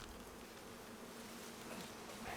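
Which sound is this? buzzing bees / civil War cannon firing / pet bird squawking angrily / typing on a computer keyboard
buzzing bees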